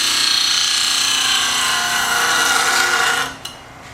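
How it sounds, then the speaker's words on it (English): A steel card scraper is held against a spinning bench grinder wheel, producing a loud, steady, close grinding whine that stops abruptly near the end, followed by a brief clink. "when you sharpen it, I just place it to the grinder"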